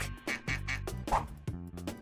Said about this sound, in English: that silhouette down there, it's a duck